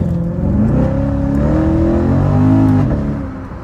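A cold Corvette V8 warms up at idle with a loud, close, deep burbling drone that rises slightly in pitch, then eases back near the end.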